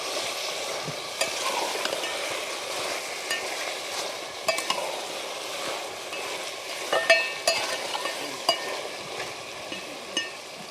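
Mutton frying in a pan with spices while being stirred, a steady close sizzle broken by scraping spoon strokes that grow more frequent toward the end.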